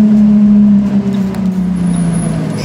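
Jaguar F-Type engine and exhaust in a tunnel, a loud, steady low purr with a strong sustained hum that eases slightly as the car cruises, echoing close by.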